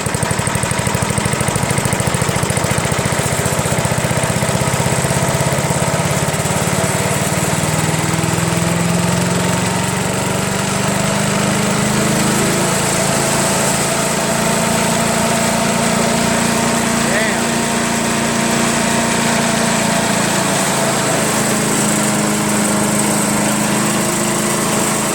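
A Craftsman lawn mower with a 14.5 Briggs OHV engine and a Walbro carburetor, nearly out of gas, runs in a steady, close, continuous drone with a slightly wavering pitch, while a voice talks faintly underneath.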